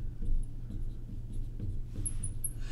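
Pen or marker writing on a board, a series of short scratchy strokes at close range with small squeaks near the end, alone without talk.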